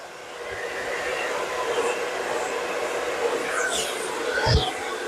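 A hair dryer blow-drying the ends of hair during an at-home blowout makes a steady, close whooshing roar with slight swells and flutters as the airflow shifts.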